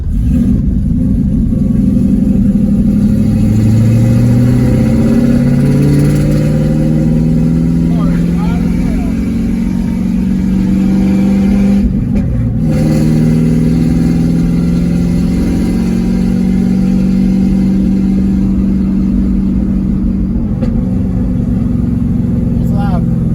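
A 1991 Pontiac Trans Am WS6 V8 revs and pulls loudly from inside the car while driving, the engine note rising and falling over a steady drone, with people talking over it.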